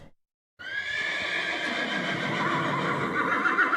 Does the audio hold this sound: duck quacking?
no